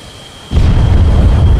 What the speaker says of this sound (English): You might see an explosion off in the distance before you actually hear it.